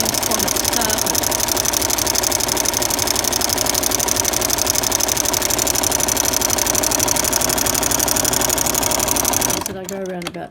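Sewing machine stitching a daisy pattern, a fast steady mechanical whir and clatter running close and loud for about ten seconds before stopping abruptly.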